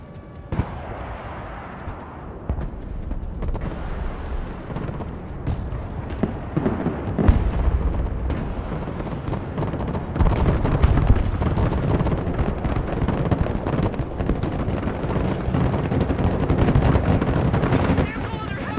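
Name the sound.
heavy gunfire and explosions hitting a vehicle, from a video game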